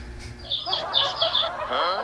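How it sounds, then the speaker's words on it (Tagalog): Several short, bright bird calls burst out in quick succession, like fowl squawking and clucking nearby, over a low background rumble. "Ingay kasi ng manok."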